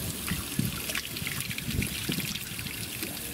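Spring water near Castelraimondo, Italy, trickles and splashes in a continuous, close, uneven babble, with no voices over it.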